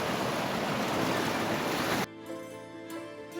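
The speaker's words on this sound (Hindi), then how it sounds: "दोनों नदियों की लहरों के टकराने से जो लहरें वापस आ रही हैं" Loud rushing water where two rivers meet at the Karnprayag confluence churns for about two seconds, then cuts abruptly to a quieter background hum with faint tones.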